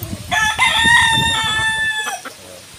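A rooster, a two-time winning gamecock from a pumpkin hatch, lets out a single loud, close crow with a long drawn-out middle, with low background murmur beneath.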